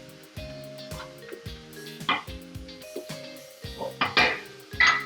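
Coconut chicken being stirred in a pot, a spoon knocking and scraping against the pan in irregular clinks and clatters with ringing metallic tones, close and fairly quiet.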